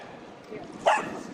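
A small dog gives a short, sharp bark or yip at moderate distance, heard once over steady outdoor background noise along a straight rail trail.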